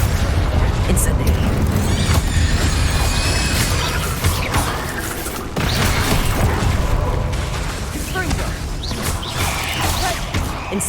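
Incendio fire spells are cast in Hogwarts Legacy amid busy combat, with repeated booming, whooshing blasts and crashes running loud and dense throughout, while a voice speaks over the action.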